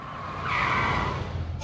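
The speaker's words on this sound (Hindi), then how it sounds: "गाड़ी रोको इसी वक्त।" A car's tires screech in a sharp skid as it brakes to a sudden stop, a loud sustained squeal over engine rumble that fades out near the end, with no talking.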